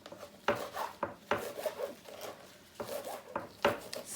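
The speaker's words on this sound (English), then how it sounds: "now I'm going to chop up all of the herbs and pop those in" Fresh herbs being roughly chopped with a knife on a board, a series of sharp, irregular thuds and scraping strokes close by, with short pauses between bursts of cutting.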